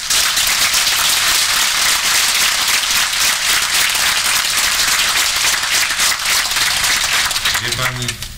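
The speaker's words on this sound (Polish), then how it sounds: "to słabo klaszcze się" Dense, steady clapping from a crowd at a political rally for a politician's Partia Polska in Warsaw fills the whole stretch, fading slightly as a voice begins at the very end.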